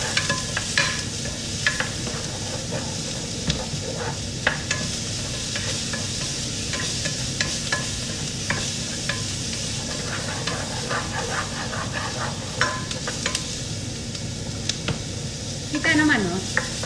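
Chopped onions sautéing in hot oil for a chicken curry, a steady close sizzle with repeated scraping stirs throughout and a brief bubbling burst near the end, no talking.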